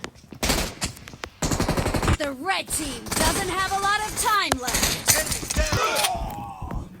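Loud bursts of automatic gunfire in PUBG, close and repeated in quick rattling strings, mixed with someone shouting and talking excitedly over the shots.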